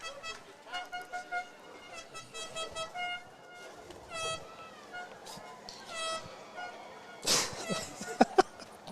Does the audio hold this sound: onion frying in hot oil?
no